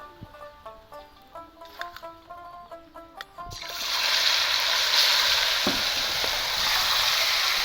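Sago pearls dropped into hot ghee burst into a loud, steady sizzle about halfway through, following a few seconds of quieter tonal sounds, and the frying then holds at an even level to the end.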